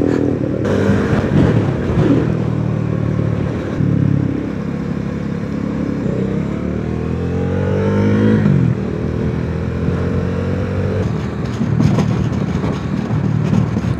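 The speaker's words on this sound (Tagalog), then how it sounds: "Yung naka-sports bike sa likod natin. Ano yun? KTM. Lakas ang tambot yun." A KTM sports motorcycle with a loud exhaust rides close behind on a commuter road, its engine revving and rising in pitch over steady traffic and wind noise.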